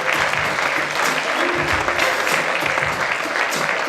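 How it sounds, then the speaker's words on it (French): Warm, sustained applause from an audience at a 2016 awards ceremony in Aveyron greets the prize winner Laura Préau. The clapping is dense and continuous and stays steady across the whole stretch, with no talk over it. "on peut l'applaudir chaleureusement"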